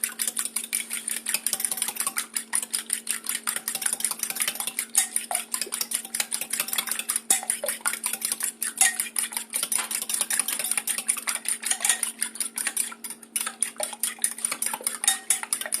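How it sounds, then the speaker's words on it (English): A fork scrapes and taps rapidly around a bowl, stirring a mixture for cake-mix red velvet cinnamon rolls, with steady clinks and scraping and a constant hum underneath; no one talks. "Then we're going to get a fork and stir that all together like so."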